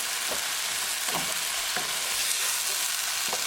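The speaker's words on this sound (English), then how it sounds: "now we're going to bring green chili. Mix it well." Onion and tomato sabzi with green chili being stirred in a pan, a dense continuous sizzle broken by several soft scrapes of the spoon at an irregular pace, close up and without speech.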